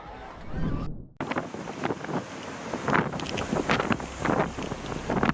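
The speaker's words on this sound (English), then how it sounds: "strong winds send umbrellas flying across the stands" Strong wind gusting at PNC Park baseball stadium in Pittsburgh, loud buffeting roar battering the microphone in repeated bursts after a brief cut, with no voices.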